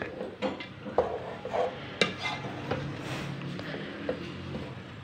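Crushed pistachios and almonds being stirred into suji halwa in a pan, with a spoon scraping and tapping the metal in irregular close strokes over a soft steady background.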